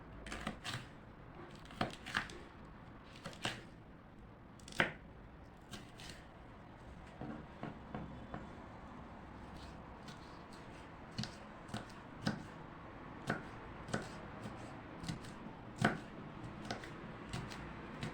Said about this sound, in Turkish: Şöyle biberlerimi doğrayacağım küçük küçük.